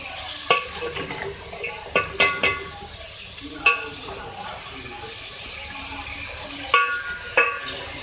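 Half a kilo of beef frying with onions in a karahi, with a low sizzle and repeated spoon scrapes and clanks against the pan at irregular intervals, while a voice talks at times.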